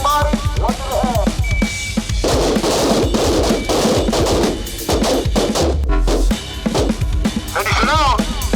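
Gunfire rings out during firearms training, a loud rapid series of sharp reports, the shooter putting two rounds into the body and one into the head, with voices shouting over the shots.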